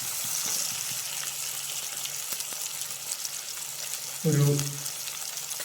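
Green gram curry with tomato cooking in a pan. A soft steady sizzle plays under scattered stirring clicks, and a short spoken word comes near the end.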